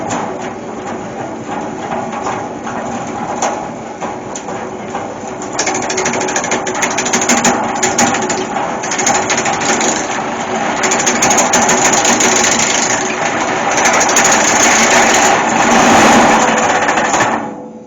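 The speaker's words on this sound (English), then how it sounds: "let's just turn some wood." A wood lathe with no variable speed turns an oak natural-edged bowl, making a steady mechanical whir as the tool cuts, with scraping and chattering growing louder partway through.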